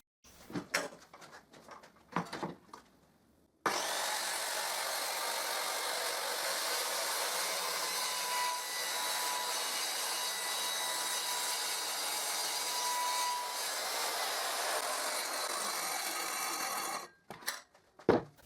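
A circular saw rips through a board clamped in a homemade miter jig, one long, loud, steady whine lasting about thirteen seconds, preceded by brief clamping knocks and ending with a spin-down and light handling.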